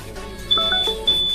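A high electronic alert tone from an infusion monitor sounds in short beeps and a longer held tone over a low background hum, moderately loud.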